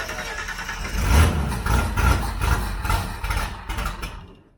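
An old car engine in a shed cranks and catches, running rough and uneven with repeated low pulsing surges and revs before settling and tailing off, loud and close with no talk.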